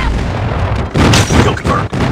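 Friendly airstrike explosions in Call of Duty Mobile, a loud, continuous roar of booms with sharp bursts, close and dense.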